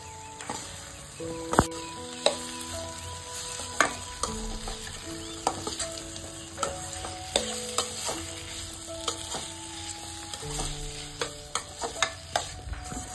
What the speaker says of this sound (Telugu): ఒక్క 2 మినిట్స్ స్టవ్ పైన పెట్టుకొని కలుపుతూ ఉండాలి.